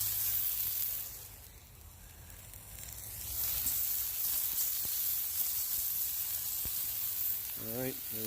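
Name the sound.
chicken breasts searing on a Blackstone griddle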